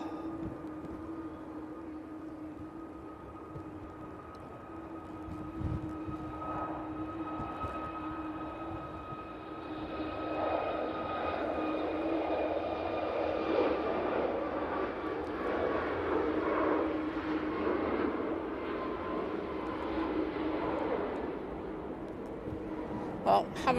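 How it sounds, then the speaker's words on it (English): Ryanair airliner on its takeoff roll at Manchester Airport on a windy day, a steady jet roar that builds and broadens from about ten seconds on, heard from a distance with continuous broadband rumble and faint background voices. "Right, Ryanair on the roll."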